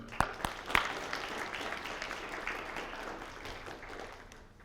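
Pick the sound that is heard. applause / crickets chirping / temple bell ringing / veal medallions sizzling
applause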